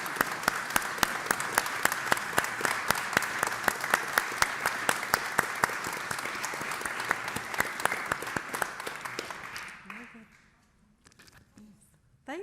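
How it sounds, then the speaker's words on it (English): An audience at a nursing initiative's global launch claps steadily for about ten seconds after a funding announcement, the applause thinning and fading out near the end. "you could hear from the applause from the audience"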